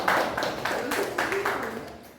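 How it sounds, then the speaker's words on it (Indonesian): Classroom clapping for a student group after their presentation, a few scattered claps rising and falling over a couple of seconds, with voices murmuring underneath. "tepuk tangan untuk kelompok Mas."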